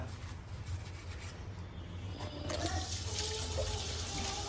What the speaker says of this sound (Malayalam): ജോയുടെ പാത്രം കഴുകിക്കൊണ്ടിരിക്കണാണ് ഗൈസ്.